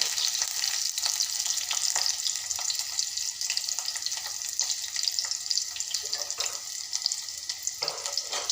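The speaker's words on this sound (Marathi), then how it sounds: "तर आपला छान असा कांदा मस्त असा परतून घेते" Onion being sautéed in a pan for a spicy stuffed-potato masala dish, a dense, even hiss of frying with faint stirring taps throughout, fairly soft and close, no voices.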